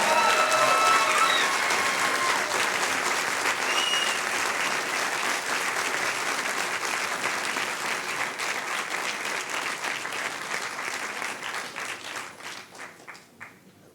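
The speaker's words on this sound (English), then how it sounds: "One more huge round of applause for the Yes Men." Sustained applause from a large conference keynote crowd, dense and steady clapping that gradually thins and fades toward the end.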